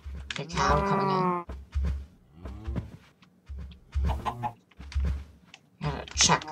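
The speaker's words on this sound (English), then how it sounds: "Okay, we have a chicken here." Chicken clucking in Minecraft during a cow hockey match, repeated short clucks and squawks in bursts, close and fairly loud, interspersed with clicks.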